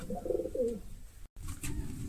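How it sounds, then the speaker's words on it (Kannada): A Girebaz pigeon coos softly in a couple of low, throaty rolling calls at close range, followed by quieter ambient noise with no talking. "ಸುನಿಲ್ ಭಾಯ್ ಅವರ ಈ ಹಕ್ಕಿ ಬಗ್ಗೆ ತಿಳಿಸ್ಕೊಡಿ"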